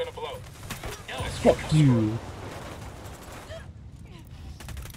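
Gunfire in the video game Ghost Recon Wildlands on extreme difficulty, a muffled burst of shots mixed with a voice and radio chatter, fading to a quieter background.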